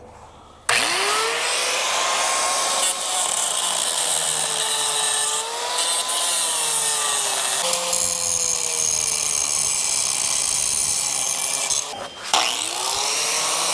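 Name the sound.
grinder cutting welded C-channel off boat trailer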